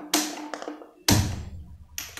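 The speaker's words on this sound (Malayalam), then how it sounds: "ഇനി നമുക്ക് തീ ഓൺ ചെയ്യാം." A kitchen stove is switched on for cooking chicken, with three sharp clicks or taps spaced about a second apart, each ringing briefly before fading, close by in a quiet room.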